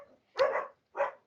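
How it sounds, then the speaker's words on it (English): Two quick, close dog barks, a louder one followed by a shorter second after a brief pause, with silence around them. "Sorry about the dogs."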